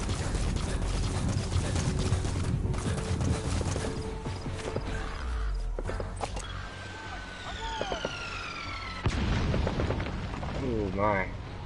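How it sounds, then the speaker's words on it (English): Mortar shells bursting in a tactical war video game, low rumbling booms landing amid constant battlefield noise, with a voice talking over the gameplay. "Mortars"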